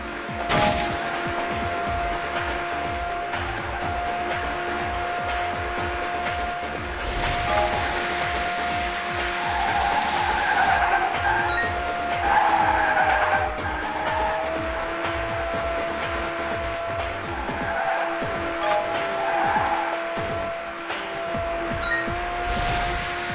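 Racing cars roar through a 3D mobile racing game by day or night in city streets and suburbs, a steady engine drone with sharp bursts of tire skids and crashes, loud and continuous with no talk.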